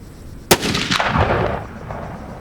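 A single loud rifle shot from a handmade .300-caliber hunting rifle cracks sharply outdoors on a Texas ranch, then rolls into a long echoing boom that fades over about a second.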